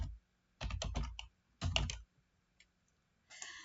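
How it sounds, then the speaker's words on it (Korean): Bursts of keyboard typing in two quick flurries, with a few isolated key clicks and a short final flurry, close and clear with no talking. "엔터 두 번 치셔야 됩니다."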